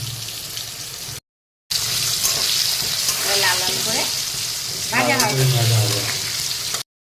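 Potatoes seasoned with turmeric and salt fry in hot oil for a mutton curry, a steady close sizzle with stirring, broken by a short gap, while a person talks over the cooking.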